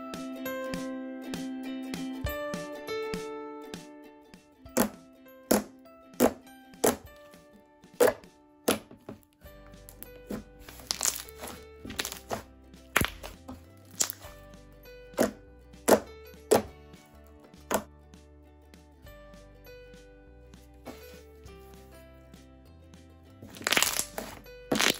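Homemade slime being mixed and activated with baking soda and Tide, giving a run of sharp squelching cracks and wet snaps in an irregular rhythm, close up over faint background music.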